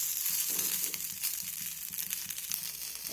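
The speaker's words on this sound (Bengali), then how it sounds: "কম তেলে বেগুন ভাজার রেসিপি" Eggplant slices frying in just a few drops of oil in a pan that was covered for three minutes, then flipped. A soft, steady, faint sizzle crackles close by without pause.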